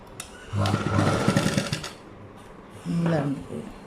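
A sewing machine stitches a blouse in two short bursts of rapid needle clatter, a longer run followed by a brief one after a pause, with quiet room tone between.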